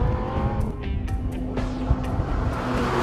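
An Audi R8 slides its tail through a corner under power on a track, the engine note and tire scrub sounding at moderate level, with a few sharp transient bursts along the way.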